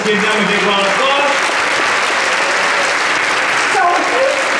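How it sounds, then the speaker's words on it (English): Audience applause at a Muslim American cultures celebration, loud continuous clapping from a sizable crowd holding steady across the whole stretch, with faint voices mixed in. "So let's give them a big round of applause."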